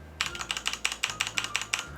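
A Corsair keyboard being typed on, likely with red switches, gives a steady run of about a dozen crisp keystroke clacks in quick, even rhythm, close and clear with no talking.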